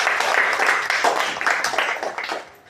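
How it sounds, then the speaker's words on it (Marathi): Applause from an assembled audience welcoming a student given a register at a school ceremony, a dense steady clatter of many hands that fades out near the end. "टाळ्या वाजवा।"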